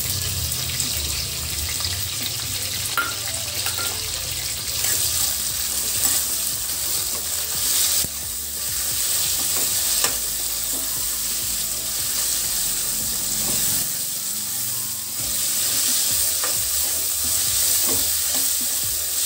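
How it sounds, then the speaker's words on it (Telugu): Capsicum fries for a bean masala curry, a steady close sizzle with occasional stirring scrapes and clicks running continuously, with a low rumble underneath in places. "క్యాప్సికం వేగిందండి ఇప్పుడు"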